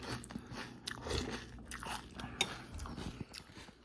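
Crunchy cereal with milk being chewed up close, a quiet, steady series of crisp crunches and wet bites.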